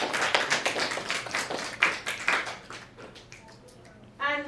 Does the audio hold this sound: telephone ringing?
no